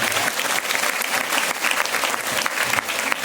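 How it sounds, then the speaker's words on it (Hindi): Vigorous, dense applause from a congregation at a healing and deliverance church meeting, loud and continuous throughout with steady clapping texture. "जोरदार ताली प्रभु के लिए बजाएंगे।"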